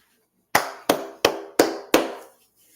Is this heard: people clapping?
yes